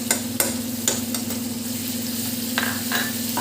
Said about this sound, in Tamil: உப்பு போட்டு ஒரு 2 நிமிஷம் நல்லா சிக்கனும் பச்சை மிளகாவும் நல்லா வதங்கணும்